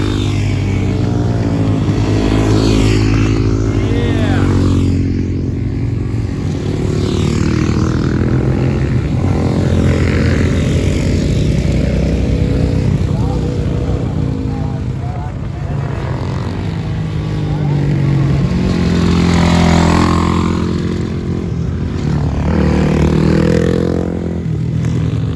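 Supermoto motorcycles pass a corner camera on a dirt-and-tarmac track, engines droning loudly and continuously with rising and falling revs as the bikes brake and accelerate through the turn, the sound broad and washed by wind.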